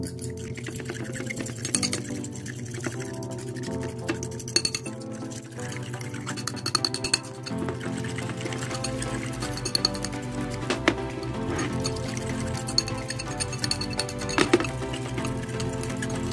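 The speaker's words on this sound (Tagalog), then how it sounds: "Ibubuhos natin siya sa white egg. And then, i-mix lang po natin siya." Coffee poured into egg white and mixed for a homemade face mask, heard as steady clinking and liquid sounds against glass, with continuous stirring under faint background noise and no speech.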